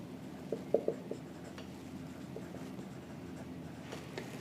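Pen writing accounting journal entries by hand on paper: a few faint scratchy strokes and taps early on, then quiet, low scribbling over a soft steady background hum.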